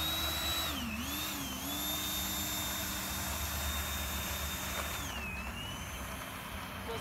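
A 70mm electric ducted fan RC jet on a 43A power setup whines in flight, a steady high-pitched whine that rises and dips as it passes, fairly distant, with no talk.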